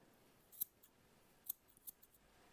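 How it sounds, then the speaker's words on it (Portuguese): Scissors snipping through hair during a home short bob haircut with a straight blunt line, several crisp close snips spaced irregularly in an otherwise quiet room. "E vou cortar esse cabelo."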